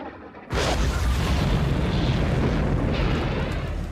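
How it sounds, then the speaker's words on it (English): Ground-to-air missiles in a Star Wars audio drama launch with a sudden loud boom, then a continuous heavy roaring rush of blasts and explosions that persists at full intensity. "Missiles away!"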